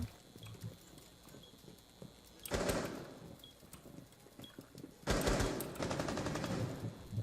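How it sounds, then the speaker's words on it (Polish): Rapid bursts of automatic gunfire in the tactical shooter Rainbow Six Siege, two loud sustained volleys separated by quieter footsteps and ambient game noise. "oni się gdzieś tam strzelają"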